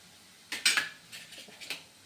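Ground mustard, fenugreek, chilli and salt powder is stirred into gongura chutney with a spoon, making a few close bursts of scraping and clinking against the bowl, then quieter scrapes.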